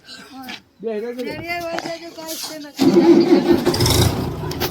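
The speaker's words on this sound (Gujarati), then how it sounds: "ટ્રેક્ટર ચાલુ કરી દીધું" A person talks briefly, then a tractor engine cranks and catches, settling into a loud, rough, rumbling idle close by.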